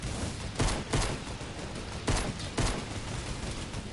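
Video game gunfire with four heavy shots in two spaced pairs, each a loud broadband crack, ringing out over a dense low rumble of background game noise, with no voices.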